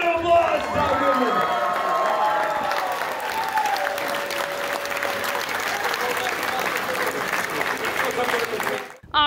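A crowd at a large reptile expo auction in Schaumburg, Illinois bursts into sustained applause and some cheering after a sale, loud and dense for about nine seconds with faint voices mixed in before it cuts off.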